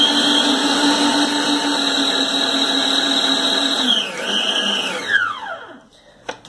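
Electric stand mixer whipping a cream made with Ninho powdered milk, a steady whirring motor hum with the pitch dropping as it slows and shuts off near the end.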